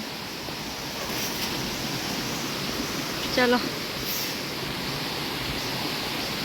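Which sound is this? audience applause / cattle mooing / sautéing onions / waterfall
waterfall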